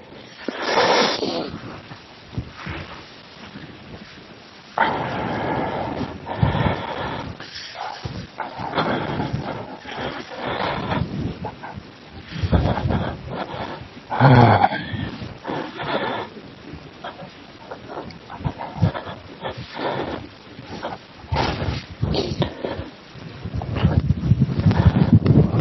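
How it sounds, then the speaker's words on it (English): Strong, gusty wind in Elan Valley roars in uneven surges with heavy microphone buffeting, loud and close, with no clear voice over it. "I hope you can get a idea of how windy it is here."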